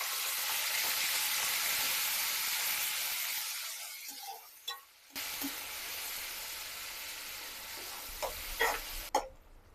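Ground coriander paste with a pinch of asafoetida sizzles in a pan for coriander rice, a loud steady frying hiss that drops away, followed by a few soft clinks and stirring scrapes.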